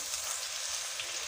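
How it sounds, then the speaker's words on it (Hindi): Tomatoes frying in a pan for a dhaba-style daal chana, giving a steady, dense sizzle that stays loud and even for the whole moment before cutting off abruptly. "अब ये देखिए ये टमाटर इसमें डाल के तो इनको अच्छी तरह से भून लो"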